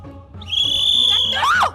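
A child imitates a referee's whistle with a mouth whistle: one long, steady, shrill note, then a quick warbling trill that rises and falls, loud and close.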